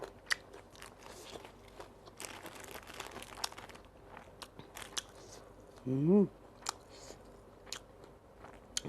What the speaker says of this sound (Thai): กินต้นหอมเข้าไปอีก